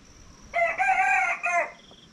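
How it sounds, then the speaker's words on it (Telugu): A rooster crows once nearby, a loud drawn-out cock-a-doodle-doo standing clearly above quiet background noise. "అటాచ్డ్ విత్ కోడి అలారం."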